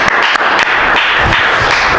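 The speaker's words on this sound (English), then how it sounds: "So a round of applause right there" A meeting audience applauds after a speech evaluation, with dense, steady clapping filling the room for the whole moment at close range, a few sharper claps standing out early.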